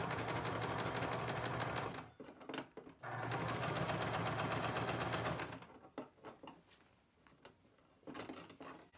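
A domestic sewing machine runs with no thread through a shirt sleeve seam, giving a steady, close, fast mechanical whirr in two long bursts separated by a short pause. Brief handling clicks and rustles follow after it stops.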